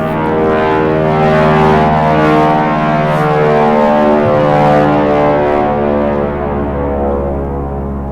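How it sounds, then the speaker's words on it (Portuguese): Airplane passing overhead, a loud sustained droning roar with layered steady tones and a slight pitch shift, fading a little toward the end with no talk. "vocês viram? Passaram um avião."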